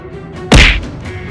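A cartoon punch effect as a skeleton strikes in a Hindi horror cartoon: one loud, sharp whack with a brief swishing tail, standing alone.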